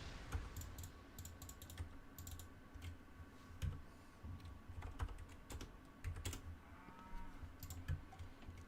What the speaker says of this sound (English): These fucking cows. They never shut up.